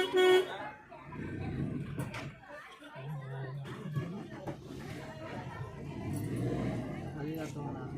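Busy road traffic near a Renuka Mata temple during a festival, many vehicles passing with occasional short horn toots, moderately distant, mixed under nearby chatter and people talking.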